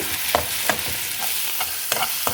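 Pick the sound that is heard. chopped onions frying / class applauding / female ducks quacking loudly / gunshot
chopped onions frying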